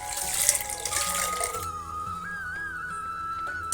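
Water pours into a pressure cooker holding lentils and turmeric for sambar, a close, steady running stream with a rising pitch as the vessel fills, heard alone without talk.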